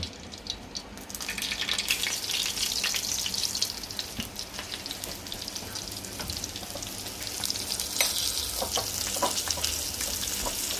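Fish slices frying in hot oil with pepper in a pot, a steady close sizzle and crackle with scattered pops, running continuously without talk.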